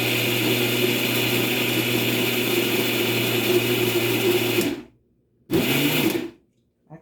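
A mixer grinder grinds overnight-soaked urad dal with a little water for dahi vada. It gives a loud, steady motor whir for several seconds, cuts off, then runs again in one short burst.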